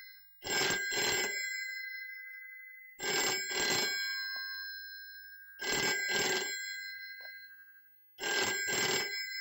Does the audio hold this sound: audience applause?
no